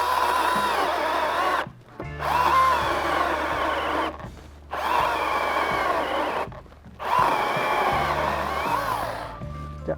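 A Milwaukee cordless mini chainsaw cuts through wood in four sustained, buzzing bursts. Short pauses separate the cuts, and the saw sounds close and moderately loud.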